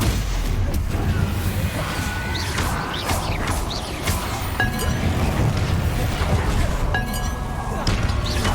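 Spell blasts in Hogwarts Legacy crack and crash in quick succession amid clinking, rumbling combat effects, dense and loud throughout, with a voice shouting over the fight.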